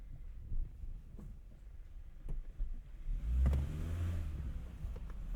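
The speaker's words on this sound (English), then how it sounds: "Automatic can be a bit jerky in first gear. I'll try and show you here." A 2012 Honda Fit base model with automatic transmission pulls away in first gear, its engine rising in a low, moderate rumble from inside the cabin with faint road noise around it.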